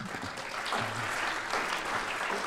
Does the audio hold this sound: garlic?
no